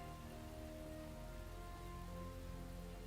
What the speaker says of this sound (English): the rain cools it off a little bit